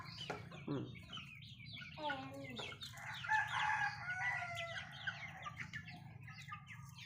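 Chickens in a Lao village cluck, squawk and crow close by in quick overlapping calls over a low steady hum.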